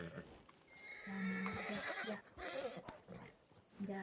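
A horse in a Wild West roleplay video game whinnies loudly with a long, wavering neigh while hooves clop nearby, and a second shorter whinny follows, with quiet talk underneath.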